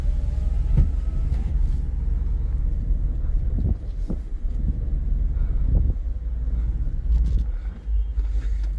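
A 2008 Dodge Challenger SRT8 driving around the block with windows down, a steady low engine rumble and road noise inside the car, with occasional wind buffeting and light thumps.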